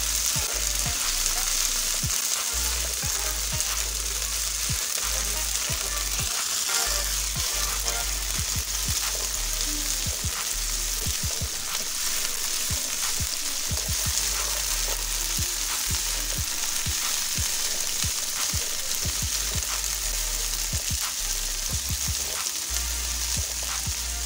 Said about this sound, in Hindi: चनों को भी हम ऑयल में फ्राई करेंगे